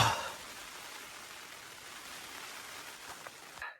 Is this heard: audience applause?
no